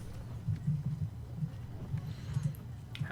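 Horse hooves clip-clop as a sound effect, soft low thuds in a loose steady rhythm under a faint background murmur.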